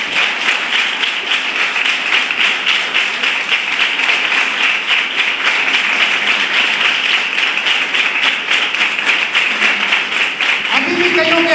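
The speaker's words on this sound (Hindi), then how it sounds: "खुदावंद यीशु के लिए जोरदार तालियां बजाएं" A church congregation claps loudly for Jesus in a dense, sustained burst of applause, close and full, running without a pause until it thins slightly at the very end.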